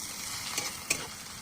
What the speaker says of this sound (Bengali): পেঁয়াজটা ভালো করে ভেজে নিলাম